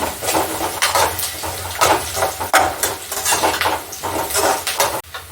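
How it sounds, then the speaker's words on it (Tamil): Onion, dried chili, garlic, ginger, cinnamon, clove and fennel are sautéed in a pan for toor dal sambar, with a metal spatula clinking and scraping in an irregular stirring rhythm over a low, steady sizzle. "வெங்காயம் காஞ்ச மிளகாய் பூண்டு இஞ்சி பட்டை லவங்கம் சோம்பு நல்லா வதக்கணுங்க"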